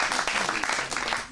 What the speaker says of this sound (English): Let's give a big round of applause for the second Chaos team.